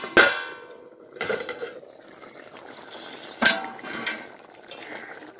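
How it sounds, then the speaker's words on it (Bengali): A metal lid lifted off a cooking pot of potato flower kofta curry, with a sharp clank followed by a few more clinks and soft scraping, close and fairly quiet. "এবার আমরা ঢাকাটা খুলে দিচ্ছি।"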